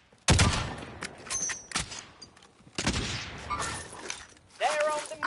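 Gunfire in the video game Warzone: several loud, close bursts and single shots crack out irregularly, with sharp impacts and clatter between them, and voices speak over the action.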